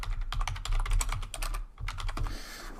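Quick, steady typing on a computer keyboard, a dense run of close, crisp key clicks with one brief pause, heard alone.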